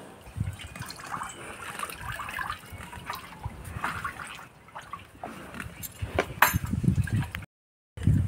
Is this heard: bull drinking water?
yes